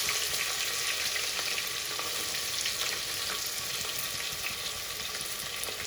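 A large onion sizzles and fries steadily in a hot pan while khichdi is being made, a continuous hissing crackle with occasional stirring, close and fairly loud throughout, with no voices.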